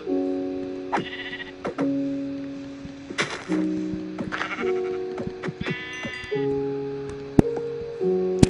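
Minecraft sheep bleat several times in short, nasal, wavering cries, spaced apart and loud, with soft game thunks and footsteps between them.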